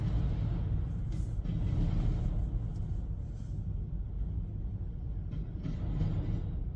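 A slow CSX freight train passes in Emerson, Georgia, its cars producing a steady low rumble with occasional light clanks and squeaks, heard alone without speech.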